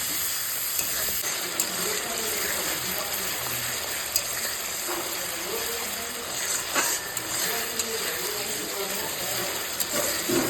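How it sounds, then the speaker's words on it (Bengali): Spice paste with sugar and a little water stirred and fried in a pan for a fish curry, a steady loud sizzle with scraping stirring strokes throughout. "সামান্য পরিমাণে একটু জল দেবো, দিয়ে ভালো করে এটা আমি কষিয়ে নেব।"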